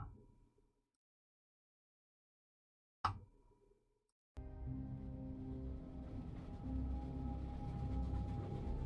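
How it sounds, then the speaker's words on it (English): A train rumbles in the puzzle game The Room Three, a low steady chugging drone that starts abruptly after a quiet stretch and a click, then holds on continuously. "Hopefully you can hear the train chugging away."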